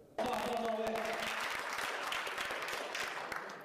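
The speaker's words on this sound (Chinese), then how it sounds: "随着现场这一阵热烈的掌声" An audience in the control hall bursts into warm, sustained applause as the Chang'e-4 probe's Yutu-2 rover drives onto the lunar far side, a dense clapping that starts abruptly and holds steady throughout.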